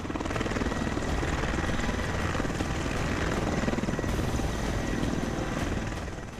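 An attack helicopter, such as an Apache flown by the Indian Army, thunders past in a loud, steady, close rotor roar with a rapid chop that lasts the whole stretch and fades slightly at the end.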